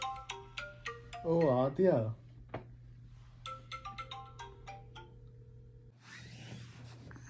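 A mobile phone ringtone plays in a Telugu drama, a short bright melodic ring that stops as a man answers and starts talking.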